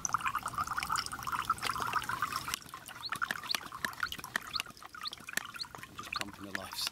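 Water is pumped out of a Sevylor Adventure Plus inflatable boat on a river, splashing and trickling in faint irregular spurts close by, with clicks and handling noises mixed in.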